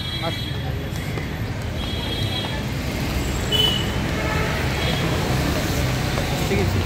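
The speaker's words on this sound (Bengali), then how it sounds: "রাস্তায় এত গাড়ি ঘোড়ার আওয়াজ, প্রবলেম হয়" Constant wash of busy city street traffic with passing buses and cars, a dense roar with a few higher tones poking through.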